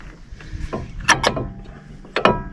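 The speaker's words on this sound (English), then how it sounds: "with the little clip you just push it inside the caliper piston" Brake pad retaining clip on a Ford Escape pushed into the caliper piston during a front brake job, giving a few short metallic clicks and scrapes, close and fairly crisp, with no talking.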